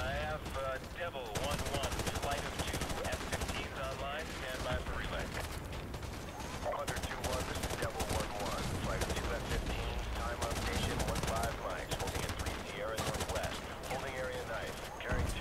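Rapid gunfire bursts and machine-gun rattles from Call of Duty: Modern Warfare 2 Remastered on hard difficulty, dense and repeated throughout, with people talking excitedly over it.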